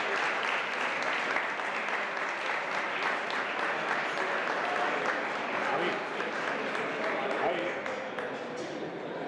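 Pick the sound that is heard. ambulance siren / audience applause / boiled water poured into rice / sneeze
audience applause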